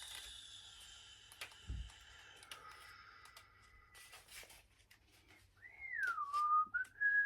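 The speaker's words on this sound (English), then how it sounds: "My cat is just there, and he likes it when I whistle." A person whistles a bright, wavering melodic tune near the end, following quieter clicks and faint tonal sounds earlier, all in an indoor setting with no talking.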